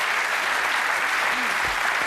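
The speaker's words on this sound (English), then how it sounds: "Come on, give them a round of applause." A studio audience at a 1992 game show applauds the contestants, a loud, continuous wash of clapping that fills the room with a faint voice briefly beneath it.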